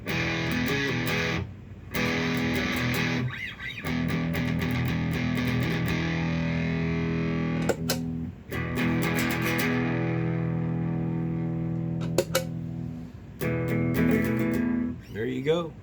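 Loud distorted electric guitar through the Ultra channel of a Peavey Ultra 112 combo amp, sustained chords and riffs broken by a few short pauses, played alone without talk.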